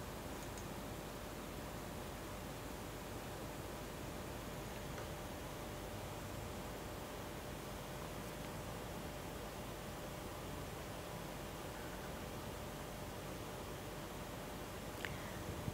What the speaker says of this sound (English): This is your white noise.